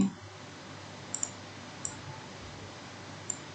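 Faint, sharp key clicks of an Enter key on a computer keyboard while entering a nested IF formula in Excel, a few isolated taps spread out over quiet room tone.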